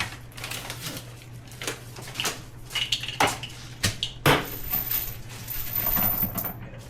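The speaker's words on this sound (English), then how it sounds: "So first panel here, just pop right off." Plastic trim panel being popped off the interior of a 2024 Subaru Ascent Touring, a few sharp clicks and snaps close by amid handling clatter.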